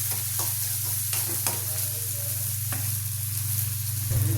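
Onion with ginger-garlic paste, coriander and green chilli sautéing in a hot pan, a steady sizzle with irregular spoon scrapes and taps against the metal, close and continuous, no voices.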